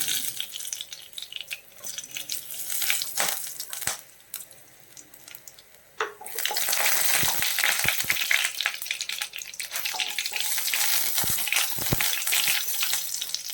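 Cloves, cardamom and peppercorns sizzle in hot oil for chicken stew, with a quieter start broken by a few clinks before a loud, sustained crackling sizzle bursts in and continues steadily.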